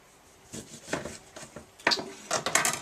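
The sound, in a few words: knife cutting a lemon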